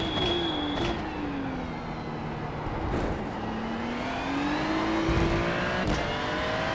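A race car in a racing video game circuits Spa on cold tyres, its engine droning with rising and falling pitch through gear changes and acceleration, continuous and close throughout.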